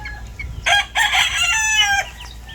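Pure Boston roundhead gamefowl rooster, F1 offspring, crowing once nearby, a loud drawn-out call over faint background noise.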